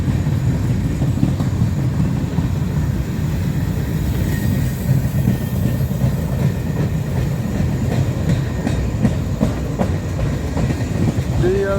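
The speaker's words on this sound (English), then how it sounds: "I assume this was a military train." A long military freight train rolls past at close range, continuous loud rumble with rhythmic clickety-clack of wheels over rail joints and occasional faint squeals, steady throughout.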